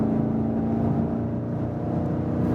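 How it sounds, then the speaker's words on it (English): A steady, deep engine drone from a 2019 BMW M550i's exhaust in sport mode, humming and rumbling continuously at cruising speed, close and fairly loud. "Sport mode means we hear more from the exhaust."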